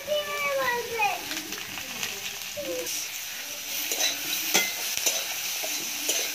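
Sliced eggplant with salt and turmeric sizzles and crackles steadily in a pan over a clay stove, with stirring clatter, while children's voices and other talk carry on over the frying throughout.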